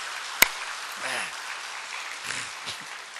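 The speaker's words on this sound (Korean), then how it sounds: "우리 성가대 박수 한번 하십시다." Members of a church congregation applaud their choir in a steady, moderate patter of clapping, with a sharp knock near the start and a few spoken words breaking through over it.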